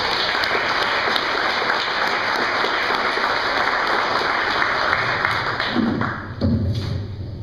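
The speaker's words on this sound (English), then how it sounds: "So let's give them a big round of applause." Audience applause fills the room steadily from start to finish at a family-style stage show, with a few louder thumps near the end as the clapping trails off.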